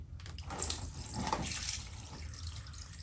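Hot engine oil pours out of a 1998–2001 Yamaha R1 motorcycle during an oil change, a close, splashy liquid stream that starts suddenly and keeps running steadily, with no talking.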